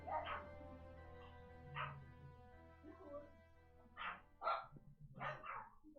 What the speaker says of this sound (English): That's why they are just barking away.